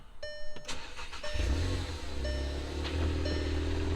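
A car engine cranks briefly and catches after a new clutch install, then settles into a steady, loud, close idle rumble.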